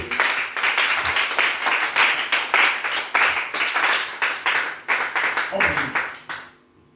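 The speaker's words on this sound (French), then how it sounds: "Acclame le Seigneur Jésus." A church congregation applauds the Lord Jesus during a French-language service, a loud, sustained round of rhythmic clapping from many hands that ends abruptly near the close, with a voice briefly audible underneath.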